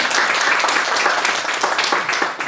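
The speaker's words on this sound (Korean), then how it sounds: "아주 잘했다고 생각하는 사람 박수를 한번 치세요." A Korean Presbyterian church congregation claps after a praise performance, brisk, dense applause close by and fairly loud, sustained for a couple of seconds.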